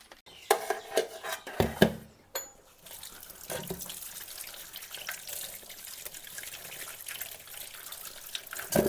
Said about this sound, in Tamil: நல்லா வாஷ் பண்ணணும்.